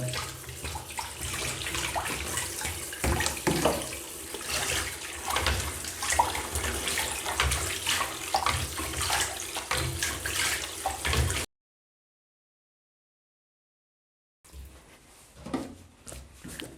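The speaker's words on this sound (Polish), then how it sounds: "Ja zawsze przy okazji jeszcze myję, płuczę elementy." Water runs steadily from a tap with splashing and clattering as black-and-white film developing equipment parts are rinsed, then cuts to silence before the running water resumes briefly.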